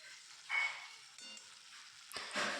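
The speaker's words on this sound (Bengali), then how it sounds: "এবার আমি বড়িগুলোকে ভালো করে নেড়েচেড়ে একটু কষিয়ে নেব" Homemade lentil bori being stirred and fried in a spice paste in a pan, a soft sizzle with a few louder bursts of scraping as the pieces are turned, quiet and close with no talking.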